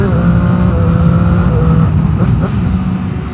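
Motorcycle with a quick shifter, a loud engine drone with rising tones that break off between gears, close up and continuous for a few seconds.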